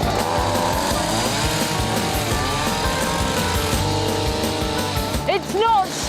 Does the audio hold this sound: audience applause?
no